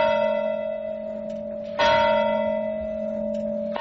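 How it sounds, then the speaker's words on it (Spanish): Church bells ring the hour in an Andalusian town, a loud sustained tolling tone that decays, then a fresh strike partway through sets it ringing again, bright and near with no talk. "Están tocando las campanas ya"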